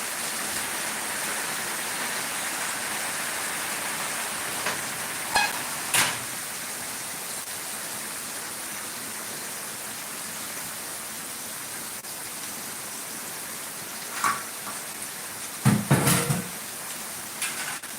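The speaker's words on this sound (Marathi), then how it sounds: "बाहेर पाऊस पण चालू आहे त्याच्यामुळे तुम्हाला पावसाचा पण आवाज येत असेल" Soft, steady patter of rain outdoors forms a faint constant hiss, with a few sharp knocks and clatters of kitchen items nearby.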